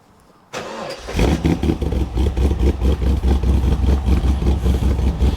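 A cammed Holden Monaro engine cranks and catches, then settles into a loud, lumpy idle with a choppy, loping rhythm, heard up close.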